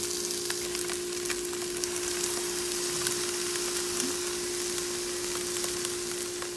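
Mango pieces sizzle steadily in a very hot pan, a constant, even frying hiss with a faint hum underneath and occasional small crackles.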